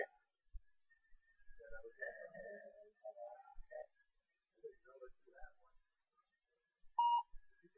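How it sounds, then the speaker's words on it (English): A short electronic beep from a barcode scanner app sounds near the end, clear and close, after a stretch of faint, muffled talking. "that beep certifies that was scanned"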